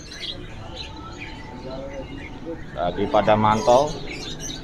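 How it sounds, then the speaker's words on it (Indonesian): A small ciblek (prinia) songbird chirps in a rapid cluster of bright, close tweets amid the background bustle of a crowded bird market, with people talking nearby. "Ini ada ciblek nih, udah jatuh dulu."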